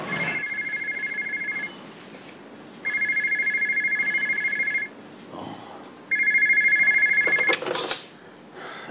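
A telephone rings in three long bursts of a steady electronic trill separated by short pauses, fairly loud and clear with no talking over it.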